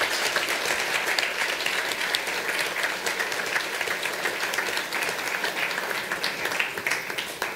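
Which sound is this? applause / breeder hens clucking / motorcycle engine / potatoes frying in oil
applause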